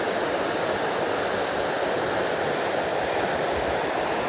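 The Cisomang river rushing swiftly beneath the high-speed rail bridge in Indonesia, a steady, loud broadband roar of flowing water with no pauses and no voices.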